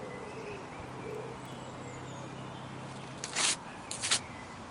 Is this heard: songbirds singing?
yes